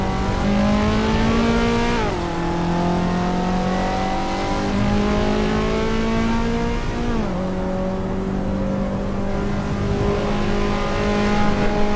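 A race car engine in Assetto Corsa EVO holds a loud, steady drone, its harmonic pitch sliding down sharply twice as the car brakes and shifts, then climbing again on acceleration, continuous with no talk.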